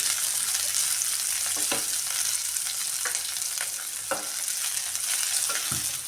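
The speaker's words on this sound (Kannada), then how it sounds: "ಎಣ್ಣೆ ಬಿಸಿ ಆದ ನಂತರ ನಾನು ಒಂದೇ ಒಂದು ಹಸಿಮೆಣಸಿನ್ಕಾಯಿ, ಈರುಳ್ಳಿ ಫ್ರೈ ಮಾಡೋಕ್ಕೆ ಹಾಕ್ತಾಯಿದ್ದೀನಿ." Chopped onion and a single green chili fry in hot oil for a hotel-style paneer gravy, a steady close sizzle broken by several sharper stirring scrapes, with no talking.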